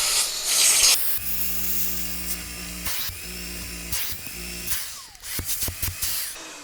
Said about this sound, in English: I don't expect it to look perfect by just spraying on and removing